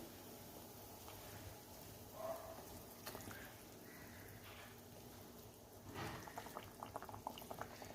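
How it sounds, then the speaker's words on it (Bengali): Bengali-style tangra fish curry gravy bubbles quietly at a boil in the pot, soft continuous burbling with a few louder pops toward the end. "ঝোলটা ফুটে গেছে।"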